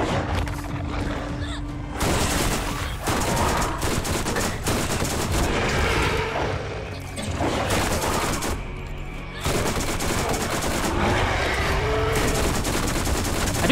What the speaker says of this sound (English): I do love SMGs.